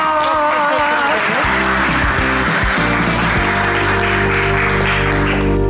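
A studio audience at a Turkish cooking competition show applauds loudly and continuously over loud, sustained music with tones that shift in pitch.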